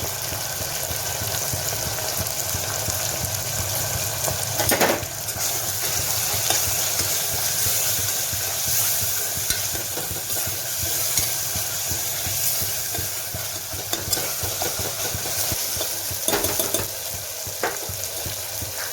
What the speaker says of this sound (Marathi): चला आता आपण मसाला तळला आहे छान